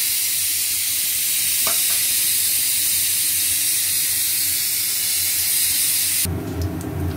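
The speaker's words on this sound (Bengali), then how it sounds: "কড়াইয়ে তেল দিয়েছি, গরম হয়ে গেছে। দিচ্ছি গরম মশলা" Garam masala and cumin seeds hit hot oil in a kadai, giving a loud, steady frying hiss close by with a brief clink partway through, until the sizzle drops off abruptly near the end; nobody speaks.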